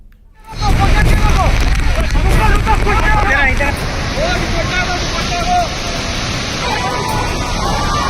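Floodwater rushes through a flooded area in Assam after heavy rain, a loud, continuous roaring wash that swells in the first second and then holds steady throughout.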